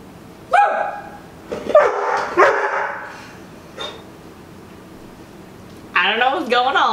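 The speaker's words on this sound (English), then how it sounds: "the dog is just playing with the kitchen" A dog barks and yips in a home kitchen, with a few sharp barks early on, quieter sounds between them, and a longer run of excited barking near the end, mixed with a voice.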